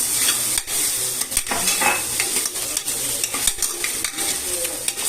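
Tomato, onion and ginger-garlic paste sauté in oil in a pressure cooker for a beef kulambu, with a steady close sizzle broken by repeated stirring scrapes and clinks of a spoon against the pot.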